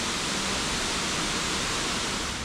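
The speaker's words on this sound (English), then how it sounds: "Look at this crazy waterfall we just found." Steady, dense roar of a waterfall in New Hampshire's White Mountains, a continuous rushing wash with no break or voices.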